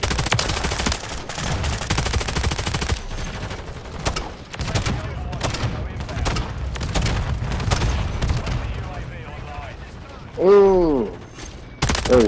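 Dense, rapid gunfire in Call of Duty: Modern Warfare 3 on a crowded Shipment map, loud continuous automatic fire with mechanical clatter and a brief whooshing effect near the end, while a player talks.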